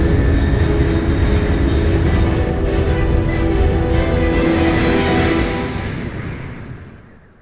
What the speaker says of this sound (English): Crash landing.